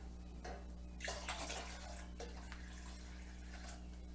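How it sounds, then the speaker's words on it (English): Vinegar pours into a pot in a few short splashing bursts over a steady low kitchen hum, close by and moderately quiet. "In this pot, I'm going to put some vinegar."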